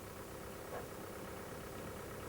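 A bus engine idles at a bus stop in a steady, low, even rumble that continues without a break, moderately loud, with no talking.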